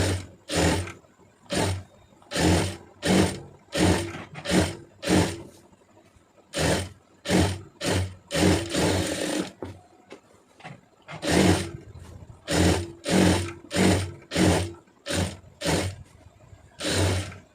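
A sewing machine stitching a blouse seam runs in short, even pulses, many in a row, with a brief pause in the middle, near and fairly loud.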